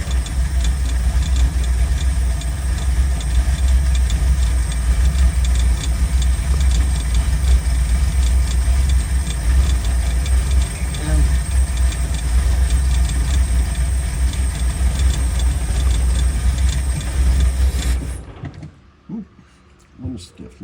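A Ford Falcon Club Wagon engine idles steadily and loudly after its first start in ten years, a constant low rumble with a faint whine that runs unbroken until the engine shuts off near the end, leaving near silence.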